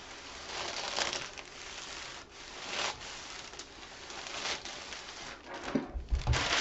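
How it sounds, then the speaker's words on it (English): An iron rubbed back and forth over an infusible ink T-shirt, making soft, repeated scraping and rubbing strokes, close and fairly quiet, with a couple of light knocks near the end. "I'm just going to kind of rub over the entire surface here"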